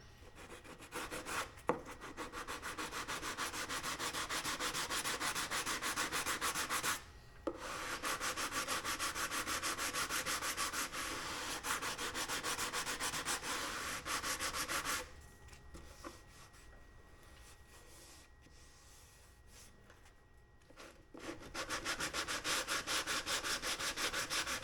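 Steady, loud abrasive sanding of a Harley Davidson touring motorcycle saddlebag lid, continuous rubbing with two brief pauses and a quieter stretch before resuming, no talk.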